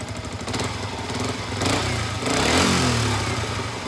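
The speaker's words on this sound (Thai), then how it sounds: "เร่งเครื่องขึ้นนิดนึงนะครับ" A 2015 Yamaha R15 motorcycle with a battery that is not charging runs close by. The engine rises from idle into two throttle revs, and its pitch climbs and holds during each push.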